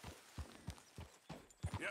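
Horse hooves clip-clopping at a steady trot on a dirt road in the video game Red Dead Redemption 2, quiet rhythmic thuds repeating about three per second with faint background.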